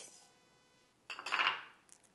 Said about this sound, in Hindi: इसी गर्म कढ़ाई में हम डालेंगे ये आधा कप कद्दू वाले बीज